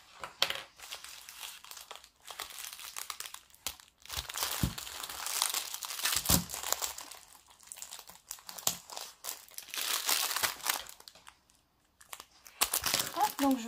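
Continuous crinkling and tearing of plastic packaging and tape, close and busy, with brief pauses and a short voice near the end.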